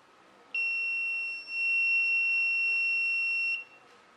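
Buzzer driven by a PIR motion sensor on a Raspberry Pi Pico, a single steady electronic tone lasting about three seconds with a brief dip partway through, clear against a quiet room.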